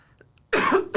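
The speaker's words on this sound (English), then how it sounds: "I had to cough really bad." A single loud, close cough bursts out after near silence, with a second short cough following right at the end.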